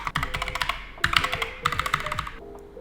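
Rapid typing on a computer keyboard, close and clear, in three quick bursts of clicking keystrokes with brief pauses between them.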